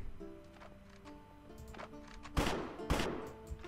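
Gunfire from a weapon in a Minecraft Counter-Strike style mini-game, two sharp loud shots about half a second apart rising over a quiet backdrop of low game tones.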